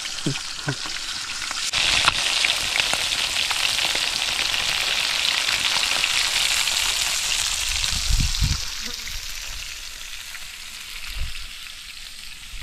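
Fish fries in a pan at an outdoor cooking spot on a deserted island, giving a loud continuous sizzle that carries steadily throughout. A few low knocks and scrapes come through underneath, with no talking.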